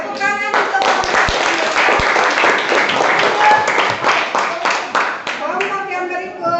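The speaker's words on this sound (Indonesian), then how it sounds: "Tepuk tangan untuk kelompok" Classroom applause for a student group in a seventh-grade social studies lesson, a steady burst of many hands clapping for several seconds with voices talking and calling out over it.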